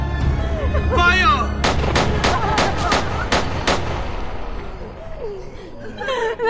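A film firing squad lets off a rifle volley, heard as a rapid string of about eight sharp, loud cracks in close succession, with shouting voices before and after the shots.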